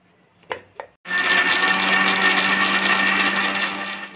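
Two soft knocks, then a mixer grinder whirs loudly and steadily, blending ginger and green chili into a paste, running continuously close by with no talking.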